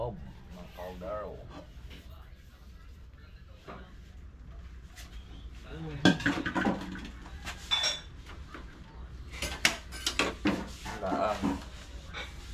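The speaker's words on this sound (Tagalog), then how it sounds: "Taklob ng kaldero." A metal cooking pot lid and dishes clatter in a home kitchen, with scattered clinks and knocks growing louder and busier in the second half, while people talk nearby.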